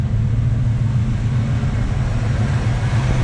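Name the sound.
1973 Chevrolet Camaro Z/28 exhaust rumble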